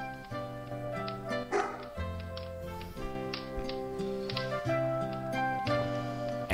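A dog in the King's Quest 3 video game whimpers and gives short yipping barks over a sustained synthesized game music soundtrack, the dog sounds fairly close and repeated through the stretch.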